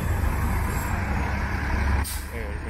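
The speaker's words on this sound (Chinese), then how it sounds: "这是一辆当地的公交车" A local city bus in Toronto rumbles past close by with a low engine drone, then releases a sharp hiss from its air brakes near the end.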